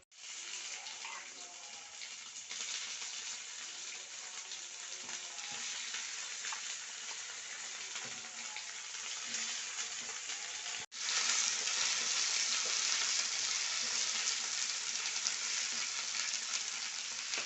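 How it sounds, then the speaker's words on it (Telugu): Chana dal, urad dal, mustard seeds, cumin, dried red chillies, crushed garlic and curry leaves frying in hot oil make a continuous broad sizzle that grows noticeably louder partway through, with faint stirring underneath and no voices. "వేడి అయ్యాక శనగపప్పు, మినపప్పు, ఆవాలు, జీలకర్ర, ఎండుమిర్చి, కొద్దిగా దంచిన వెల్లుల్లి మరియు కరివేపాకు వేసి బాగా వేయించుకోవాలి"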